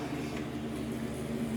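A lawn mower drones steadily in the background, a continuous low engine hum with a faint tonal buzz that holds even for the whole stretch, with no voices.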